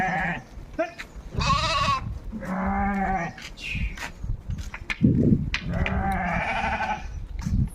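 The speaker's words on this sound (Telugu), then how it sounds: "గొర్రెలు వచ్చేసి మంద వచ్చేసింది" Several sheep of a village flock in Telangana bleat in overlapping, wavering calls, some close and loud, others farther off, with faint shuffling between cries.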